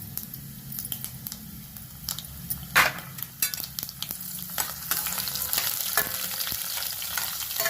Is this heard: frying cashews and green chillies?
yes